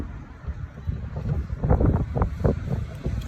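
Strong outdoor wind buffets a microphone with a steady low rumble and rising gusts, loud and close, with no speech.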